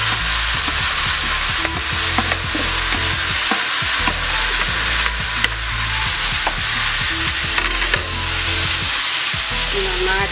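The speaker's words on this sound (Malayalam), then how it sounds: "മസാല എല്ലാ ഭാഗത്തും പിടിക്കുന്നവരും വരെ നന്നായി ഇളക്കി യോജിപ്പിക്കും" Kottayam-style beef fry with masala sizzles loudly in a pan as it is stirred, steady frying hiss broken by repeated scraping and clattering of the spoon, close up and without speech.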